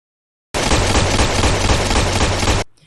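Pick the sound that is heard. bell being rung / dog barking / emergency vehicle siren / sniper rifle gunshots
sniper rifle gunshots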